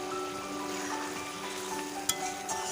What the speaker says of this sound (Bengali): এবার এই মশলার সাথে ভালোভাবে মিশিয়ে ফুটিয়ে নেব বেশ 5 থেকে 7 মিনিট।